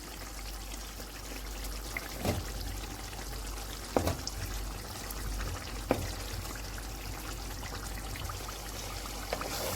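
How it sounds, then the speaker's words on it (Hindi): Chicken kebabs fry in a covered karahi, giving a steady hissing sizzle with a few brief clinks or taps against the pan, no talking. "अभी हम इनको इसी तरह से भूनते रहेंगे"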